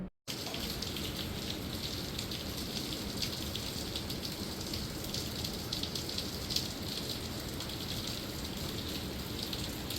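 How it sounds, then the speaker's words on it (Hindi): Heavy rain pours down in a mountain village in Pandukeshwar, a dense, unbroken patter and hiss that stays close and steady throughout, with no voices. "बहुत तेज़ बारिश हो रही है"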